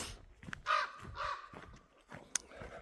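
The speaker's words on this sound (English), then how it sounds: "Raven." Raven calling several times on a forest trail near Kitsap Lake, harsh croaking caws at a moderate distance with gaps between them and no talking.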